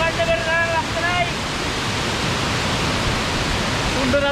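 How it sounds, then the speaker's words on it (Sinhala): The seventh fall of the Bomuru waterfall chain rushes in a dense, steady roar close by, with a voice speaking briefly over the water at the start and end. "මේ 7 වෙනි ඇල්ල බෝමුරු වෙල දාමේ."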